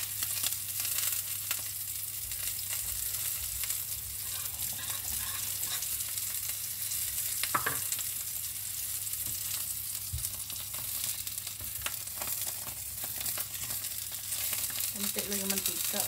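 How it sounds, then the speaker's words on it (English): Hotdog sausages frying in a small amount of oil, with steady close sizzling crackle throughout and a brief stir or clink partway through; a faint voice is heard near the end. "nagpiprito ako ng hotdog"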